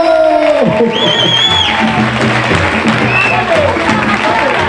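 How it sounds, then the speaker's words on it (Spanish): Crowd clapping and cheering at an Antroido carnival celebration, loud and close, with shouting voices and chatter mixed over the noisy applause throughout. "¡Ese aplauso!"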